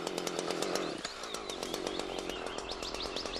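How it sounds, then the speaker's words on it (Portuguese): A chainsaw runs steadily as it cuts up from below through a log until the cuts meet, with a loud, continuous buzzing engine drone that dips briefly, heard close and without speech. "Serre em seguida de baixo para cima até os dois cortes se encontrarem"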